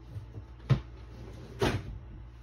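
Two short rummaging clatters, as of a NES game box being pulled from the back of a drawer, stand out sharply over a low, steady room noise.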